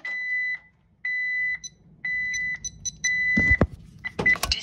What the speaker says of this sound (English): I'm turning this alarm off